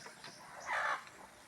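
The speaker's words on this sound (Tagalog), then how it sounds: "Tara po na akong mga manok guys oh." On a farm, a chicken lets out a single short, faint cluck over a quiet outdoor background.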